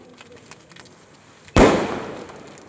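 A Diwali firecracker bursts with one loud, sudden bang up close, followed by a sustained fizzing crackle that slowly fades, after a few faint pops in the quiet before it.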